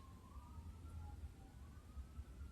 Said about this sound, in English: Because they're sirens.